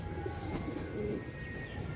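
Pigeons being readied for a race give faint, soft coos in a quiet loft, short murmured calls over a low steady background hum.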